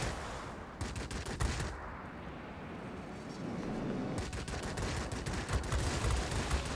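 MiG-15 23 mm cannons firing in the World of Warplanes flight game, with two clusters of rapid bursts, the first near the start, the second after a lull, set against a steady engine roar.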